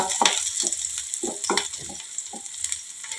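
Mint leaves sizzle and crackle in hot oil for a North Karnataka chutney, a steady close frying hiss broken by scattered pops and a few stirring scrapes, with no talk.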